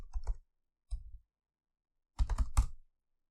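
Fast, close bursts of clicking keystrokes on a computer keyboard: a short flurry, a brief tap, a pause, then a longer run of typing in an otherwise silent room.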